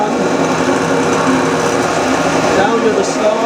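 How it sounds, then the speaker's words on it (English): A workshop drill press running while indexing plates are made, a steady high whine with a continuous mechanical buzz held at close range throughout, with a voice talking over it. "And turn the drill press on."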